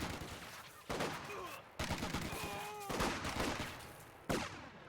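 Machine gun fire in a Company of Heroes 2 battle, repeated bursts of rapid shots in distinct volleys separated by short pauses, with whistling ricochets and distant battle noise between them.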